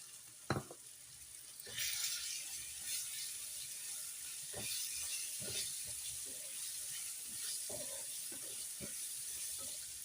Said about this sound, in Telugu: మనం క్లీన్ చేసి పెట్టుకున్న చికెన్ అయితే వేస్తున్నాను